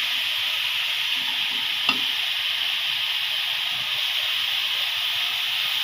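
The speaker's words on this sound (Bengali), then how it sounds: "এই তো শাক যেভাবে ভাজি করে সেভাবে আমি এটাকে ভাজি করব" Banana blossom being stir-fried in a pan with garlic, giving a steady, even sizzle and hiss throughout, with one brief clink of a utensil near the middle and no talking.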